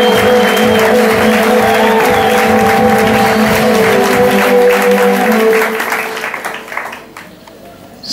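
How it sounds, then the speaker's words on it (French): A congregation at a French-language church service claps together in a loud, sustained round of applause that tapers off toward the end, with voices and a tonal drone running underneath. "Applaudissons."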